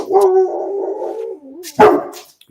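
Pit bulls barking and whining up close, a drawn-out whimpering bark followed by a sharp loud bark, with quiet gaps between.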